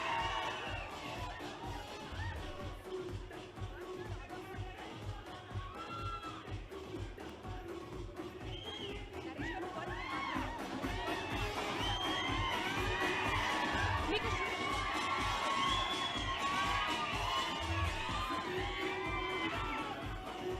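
Crowd at a film trailer launch event cheering, whooping and shouting over a steady thumping beat, the roar swelling louder in the second half.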